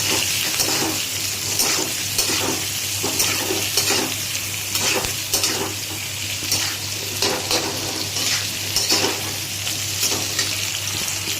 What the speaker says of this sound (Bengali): যতক্ষণ এই পেঁয়াজটা ভাজা হচ্ছে